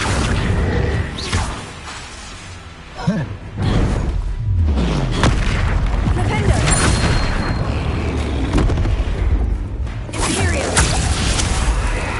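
A Bombarda spell explosion in the Hogwarts video game: loud booming blasts and whooshing impacts amid dense game noise, with a spoken spell name near the middle.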